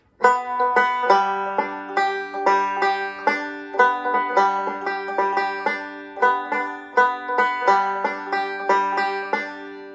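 A banjo plays a rapid, syncopated fingerpicked roll from Goodbye Liza Jane, bright plucked notes tumbling in a steady repeating pattern, close and clear.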